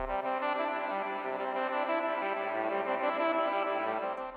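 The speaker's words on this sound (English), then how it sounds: "We now have a new type of music disc and it sounds like this." A Minecraft music disc plays a mellow electronic melody steadily with sustained tones and a soft bass line, alone and without any voices.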